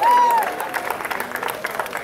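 Audience at a 2019 sports complex naming ceremony claps in a light, scattered patter after a brief high voice or whistle at the start, with murmuring mixed in.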